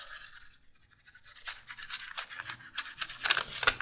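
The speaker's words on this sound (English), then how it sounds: "Bottle of black oil dye and just start dyeing stuff up." Black oil dye being rubbed onto leather pieces for a Civil War percussion cap box, heard as close, soft, irregular scrubbing and brushing strokes that grow busier toward the end, with no talk.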